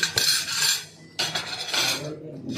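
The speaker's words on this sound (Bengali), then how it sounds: "এখানে আছে প্লেট, প্লেটটা নিয়ে নিই" Plates and cutlery clatter and clink in short bursts as a plate is taken from a restaurant buffet, with a few sharp ceramic knocks and no talking.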